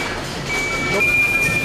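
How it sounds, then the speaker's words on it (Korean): A thin, steady electronic alarm tone from a parcel conveyor machine at a logistics centre, warning of backed-up packages, sounds over busy mechanical clatter and hum. "뭔가 심상치 않은 경보가 울린다."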